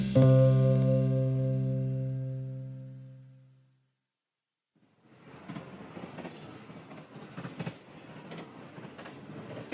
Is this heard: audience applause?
no